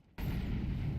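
Grenade blast in Counter-Strike 2, a single loud deep boom bursting in after a brief quiet moment and rumbling on without pause.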